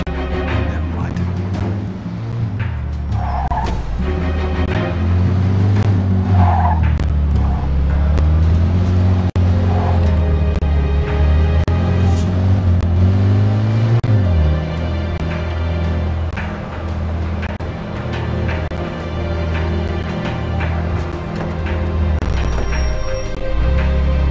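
In a Mafia 2 car chase, a car engine roars steadily and close, its pitch rising and falling as the car speeds up and slows, with occasional thumps and brief voices in the mix.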